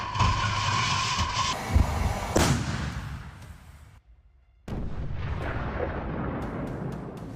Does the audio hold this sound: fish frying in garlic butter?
no